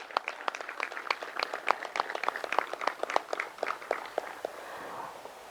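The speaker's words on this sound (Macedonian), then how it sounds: "Ве замолувам еден голем аплауз за нашиот градоначалник" An audience at a civic town meeting claps for the mayor, a sparse, fairly quiet patter of individual claps from a small crowd that thins out and fades toward the end.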